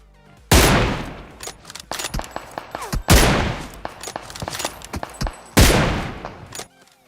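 Bursts of rapid gunfire in PUBG Mobile crack repeatedly, with three heavy volleys and scattered single shots between them, loud and close.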